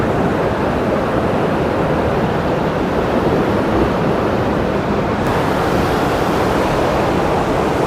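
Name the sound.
water rushing through an irrigation water separator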